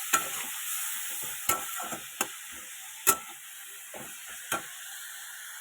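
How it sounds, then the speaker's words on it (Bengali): Salt, turmeric and slit green chillies are stirred into a sizzling pan, with a steady fry hiss broken by sharp scraping clicks of a spoon at irregular intervals. "এটাকে একটু ভালো করে ভাজা করে নেবো।"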